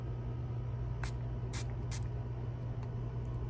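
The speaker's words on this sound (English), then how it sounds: "You just go ahead and spray it." A few short bursts from a spray bottle of lens cleaner onto Oakley Sutro sunglasses, about four quick spritzes with pauses between, over a steady low background hum.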